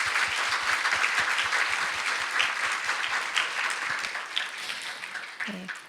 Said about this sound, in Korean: 사랑과 격려의 박수 한번 보내드리겠습니다